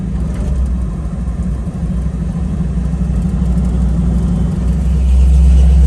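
A 1969 Camaro with a T56 transmission on a road test, a loud, steady low engine drone and cabin rumble that swells slightly as it accelerates toward the freeway, with no talk.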